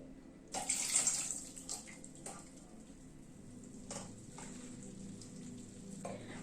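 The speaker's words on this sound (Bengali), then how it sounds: "এবার এটাকে আমি স্ট্রেনারে ঢেলে দিচ্ছি।" Cooked rice noodles and their soaking water poured into a strainer, a short splashing gush followed by quieter trickling and dripping, close and fairly soft.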